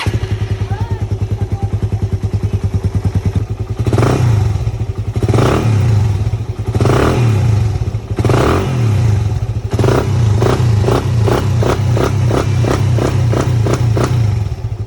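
A second-hand motorcycle engine cranks, catches and idles with a steady low rumble, then revs in repeated bursts, close to the recorder, loud throughout.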